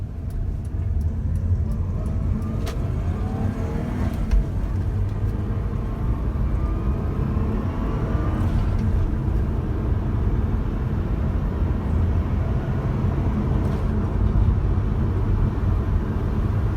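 A 2005 Saab 9-2X Aero engine hums steadily with broad low rumble, building as the car pulls away on the street; road and engine noise fill the whole stretch, no talking.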